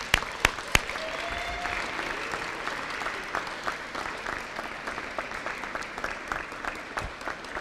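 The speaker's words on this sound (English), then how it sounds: "tell them thank you with your applause." Graduates at a 2015 summer commencement ceremony applauding their parents, a broad hall-wide wash of clapping from a large crowd, moderately distant and sustained, with a few sharp nearby claps at the start.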